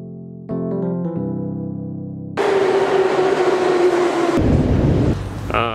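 A metro train at Gorkovskaya station in St. Petersburg rumbles loudly and steadily with a sustained whine and broadband roar, shifting partway through as it moves, with no talk over it.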